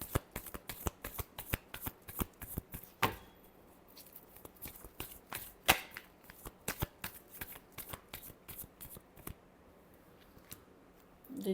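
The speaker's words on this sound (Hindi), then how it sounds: "Last shuffle." Tarot cards being shuffled by hand, a rapid series of close, crisp riffling flutters and snaps in uneven bursts with short pauses between them.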